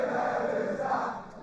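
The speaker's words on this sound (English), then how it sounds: "Crowd have bursted into Poznan over there." Crowd at a darts tournament chanting the Poznan together, a steady dense roar of many voices heard from a distance without a break.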